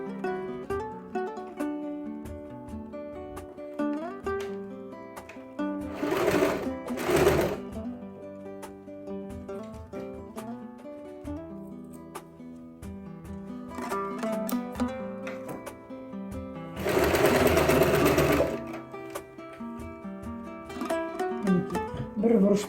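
Sewing machine stitching fabric in a craft workshop, a continuous rapid mechanical whir with rhythmic needle clatter, close and steady, swelling into two louder, denser bursts along the way.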